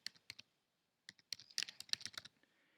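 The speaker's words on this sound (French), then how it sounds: "lorsqu'on se place ici dans la barre de recherche et que l'on tape" Keys clack on a computer keyboard as a search word is typed into a search bar, a few isolated taps followed by a quick burst of typing, close and crisp, with no talk.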